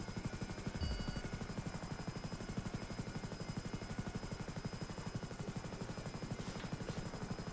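A helicopter's rotor in GTA roleplay thumps steadily and close throughout, with a dense, rapid chopping pulse and a faint high whine over it.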